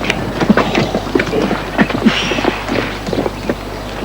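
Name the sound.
horse hooves clip-clopping while pulling a cart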